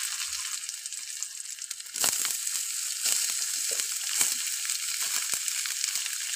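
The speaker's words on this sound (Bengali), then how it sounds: "তেলটা গরম হয়েছে, পেঁয়াজ দিয়ে দিলাম, সাথে দিব কাঁচা লঙ্কা।" Sliced onion and green chilli hit hot oil with a sudden loud sizzle after a quiet start, then keep frying in a steady crackling hiss.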